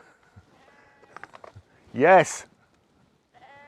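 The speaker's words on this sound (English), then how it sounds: "Flipping sheep, always have to get the last word in." A sheep lets out one loud, wavering bleat close by, with someone talking before it and a car's trim being described around it.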